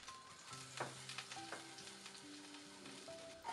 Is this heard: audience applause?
no